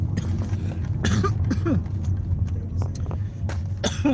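Several short coughs, some close together, mixed with background chatter and low noise, suggesting a person coughing in a room during a casual storytelling session.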